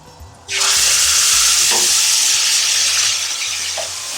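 Curry spices with tomato ketchup and base gravy hit a hot pan for a chicken curry, bursting into a loud, close sizzle that eases slightly as stirring scrapes continue.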